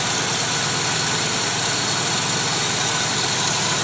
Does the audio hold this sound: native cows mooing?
no